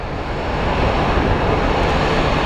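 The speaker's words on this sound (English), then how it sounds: "And we have a little Embraer." A small Embraer jet at Phoenix Sky Harbor airport makes a steady, loud broadband engine roar, continuous and close throughout with no voices.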